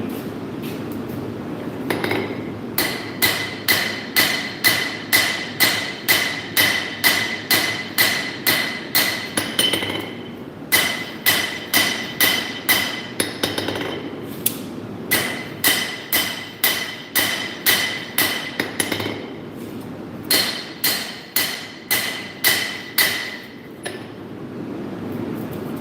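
Hammer blows ring out on hot metal during a live forging session, in rapid rhythmic bursts of bright metallic strikes with short pauses between runs, close and loud.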